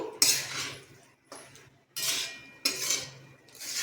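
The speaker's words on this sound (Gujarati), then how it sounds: "હવે આપણે બધું મિક્સ કરી લઈશું" A spoon scrapes and clinks against a pan while masala fry idli is stirred and mixed, in four separate bursts of clattering with short pauses between them, close by and with no talking.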